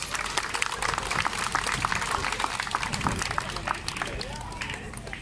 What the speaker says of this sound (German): die haben alle mal einen ganz kräftigen Applaus verdient